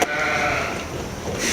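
A sheep bleats indoors in a sheep room, a sustained, wavering cry, close by, with a sharp noise at the start and rustling toward the end.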